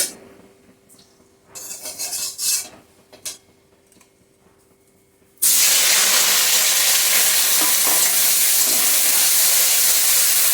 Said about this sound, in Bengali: এখন কড়াইতে দিয়ে দিচ্ছি সর্ষের তেল দিয়ে আলুটা ভেজে তুলে নেব